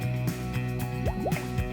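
Water poured onto seeds and magic soil in an Awesome Blossoms toy doll set, heard as a series of small drips and bubbly liquid plops with rising gurgles, close and alone.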